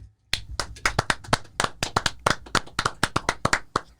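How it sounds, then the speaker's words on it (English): Sharp, close hand claps in a quick, uneven rhythm, dozens of them in a row with no talking. "Big claps to Luke Voigt."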